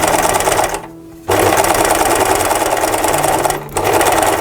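A sewing machine stitches elastic onto fabric to gather it for a jar cover, running loud and steady with two brief pauses, the motor whirring and the needle chattering close by.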